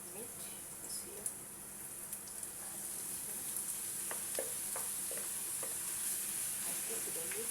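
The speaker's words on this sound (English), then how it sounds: "I cook the meat with the onion things" Meat and onions sizzling in a pan for a mixed-meat pasta, a soft, steady frying hiss with occasional light stirring clicks, fairly faint.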